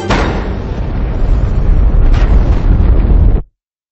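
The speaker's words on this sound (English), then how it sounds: "The explosion?" An explosion sound effect in the Patient Zero audiobook by Jonathan Maberry erupts as a loud, roaring blast that rumbles on for over three seconds before cutting abruptly to silence.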